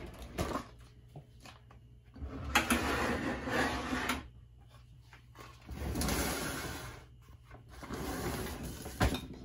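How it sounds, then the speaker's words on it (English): Pantry drawers in a tiny home sliding all the way out, several long smooth rolling glides in separate bursts with quiet gaps between, close and moderately loud. "the pantry has four drawers that slide all the way out"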